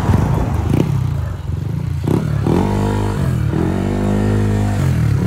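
Yamaha NMAX version 2 scooter with a 59 throttle body, its engine running loud and close throughout with rising and falling revs and a rough, buzzing tone.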